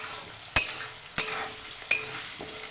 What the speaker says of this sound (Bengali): একটু লাল লাল করে ভাজবো আলুগুলোকে।